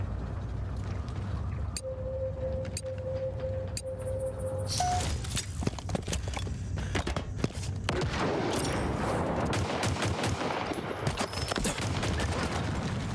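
Gunfire in a Halo match arrives as scattered shots that build into a dense run of rapid bursts, fairly loud against a steady game background.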